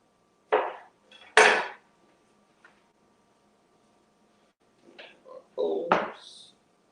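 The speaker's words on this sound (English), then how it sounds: "I'll finish cutting our garnish here" A knife chops garnish on a cutting board for hummus street corn, a few sharp separate knocks and taps spaced apart, close and clear with quiet between them.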